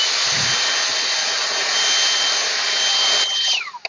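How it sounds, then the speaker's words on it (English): A battery-powered portable handheld leaf blower runs at a steady, loud, high-pitched whir close by, then spins down and cuts off near the end. "now we've got a nice portable handheld blower that does a good job on blowing leaves"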